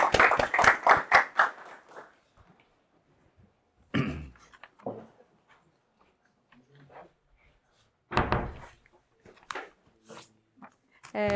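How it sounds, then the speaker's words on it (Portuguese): An audience applauds a newly appointed lecturer at a new-faculty seminar: a dense burst of clapping for about two seconds that quickly dies away, leaving near silence broken by a few scattered shuffles and knocks. "Então, um aplauso aí para a nossa mais recente docente."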